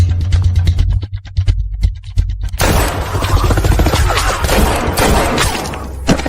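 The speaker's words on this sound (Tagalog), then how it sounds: "Putok ng baril." A rapid volley of sharp cracks like gunfire, then a dense, sustained roar of noise continuing loudly.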